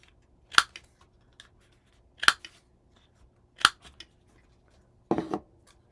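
Scissors snip the corners of a small paper tag for a craft album: four crisp, separate cuts spaced about a second and a half apart, close and quiet with silence between.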